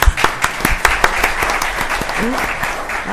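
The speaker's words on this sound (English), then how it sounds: "Let's give her a round of applause." A room at a county board of commissioners meeting breaks into a round of applause, dense clapping close by with a few sharp individual claps, continuing steadily and evenly throughout.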